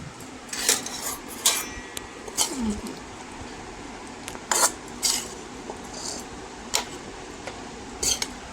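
Dishes and cutlery clink in scattered sharp clatters while breakfast of spicy potato chorchori and boiled eggs is served, moderately near with a faint room hum, no talking.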